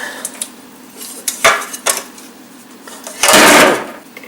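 Metal transmission pan on an MK4 VW Jetta lowered and emptied, giving scattered clanks and scrapes followed by a louder, sustained clattering burst near the end.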